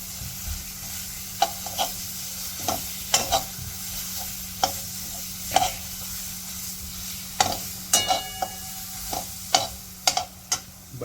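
Red garlic chutney with Kashmiri red chili powder cooks in oil and butter, with a steady low sizzle and repeated sharp scrapes and taps of a spoon stirring the pan, close and moderately loud with no talk.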